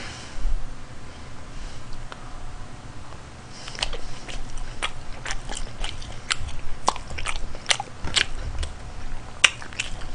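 Boneless BHC Matchoking fried chicken, glazed and studded with Cheongyang chili, bitten and chewed up close: a run of sharp crunchy bites and wet mastication sounds, irregular and fairly loud, with no talking.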